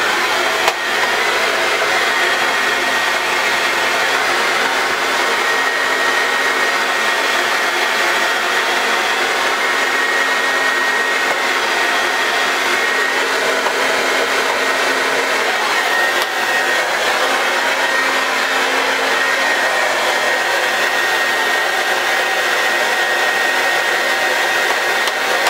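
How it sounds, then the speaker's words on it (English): A hair dryer blows steadily and loudly up close during a faux hawk blow-dry, a constant whooshing roar with a faint whine that runs unbroken for the whole stretch. "So when I turn the dryer on, you'll see I'll be concentrating on trying to get that a little bit more streamlined"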